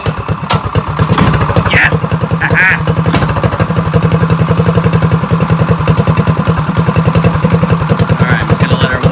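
A pull-start drift trike engine catches and settles into a loud, rapid, chugging idle that continues steadily, with a voice briefly exclaiming over it.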